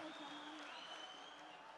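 Applause from the audience at a mushaira poetry gathering in Dubai, a steady dense wash of clapping from a large crowd, fairly distant and even throughout.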